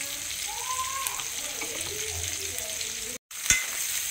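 Green chillies and onions frying in a pan for palak soya chunk curry, giving a continuous close sizzle with faint stirring, a brief dropout and then a single sharp clink.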